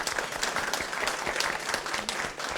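An audience claps hands at a talk, a dense burst of applause with many overlapping claps at moderate loudness throughout.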